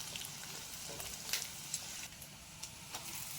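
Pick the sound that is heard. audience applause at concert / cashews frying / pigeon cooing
cashews frying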